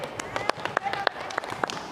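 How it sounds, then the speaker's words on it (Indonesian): Scattered hand claps from a class of students in a rhythmic gymnastics lesson, a few sharp irregular slaps close by over about two seconds, with light background noise. "Yuk, tepuk tangan untuk kelompok terakhir."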